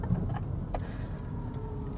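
A Wheego electric car gives off a low steady whir with a faint buzzing beneath it, quiet and continuous, with a brief tick or click partway through.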